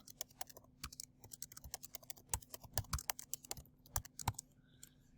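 Close, quiet typing on a computer keyboard: irregular key taps and clicks in short bursts with brief pauses, and no voice.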